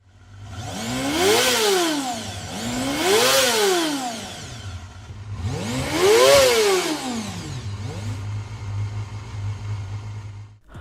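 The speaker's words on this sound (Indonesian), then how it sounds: "kurang lebih seperti inilah sampel suara dari Honda CBR 250RR MC22." A Honda CBR 250RR MC22 motorcycle's inline-four engine revs three times in sharp rising and falling sweeps, then settles back to a steady idle, close and fairly loud, with no talk.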